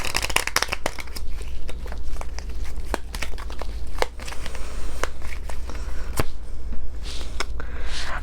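A deck of cards being shuffled up close, a run of crisp riffling snaps and papery flicks with a few sharp taps, continuous and fairly loud with no one talking.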